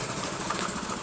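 A motorcycle engine runs close and loud in a steady, throbbing drone throughout the short moment, with no clear rise or fade.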